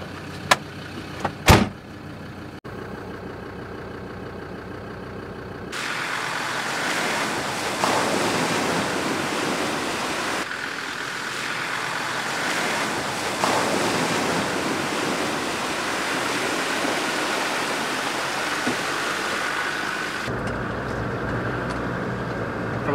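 A camper vehicle drives through a river ford on a track, with a sustained rushing wash of water and engine noise that rises abruptly, surges in waves and holds loud for several seconds before easing off, heavy wind buffeting throughout.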